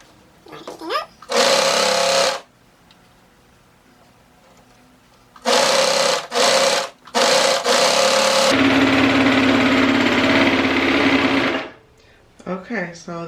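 A sewing machine stitches the crotch seam of a stocking being made into a romper. It runs in loud, close bursts of steady whirring with short pauses and one long run, and brief voice sounds come between the runs.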